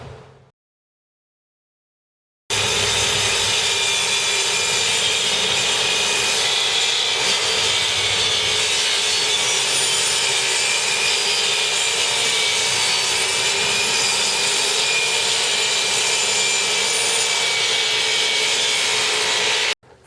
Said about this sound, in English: measure your cabinets and cut your plywood to fit.